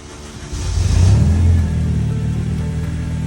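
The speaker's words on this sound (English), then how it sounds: "Now we're going to find out if this car starts up." A turbocharged Honda engine running a K-Pro ECU fires up, its loud low rumble swelling and revving briefly near the start before settling into a steady, slightly rough idle, close by with no talking.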